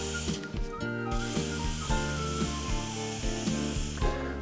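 A pump spray bottle mists liquid onto a plastic cap, giving a soft continuous hiss with slight pulsing, heard over steady background music without speech.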